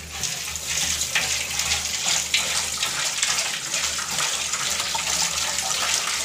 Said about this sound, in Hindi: हाथ वाथ को अब धो लेती हूँ